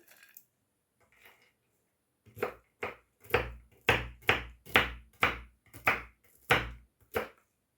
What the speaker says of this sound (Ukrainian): Нарізаю горішки.